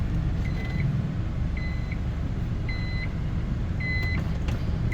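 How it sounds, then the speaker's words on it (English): Reverse beeper on a Nissan S-Cargo sounding four evenly spaced electronic beeps over a low steady engine rumble. "I've got a reverse beeper."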